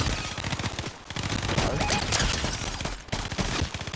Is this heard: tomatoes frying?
no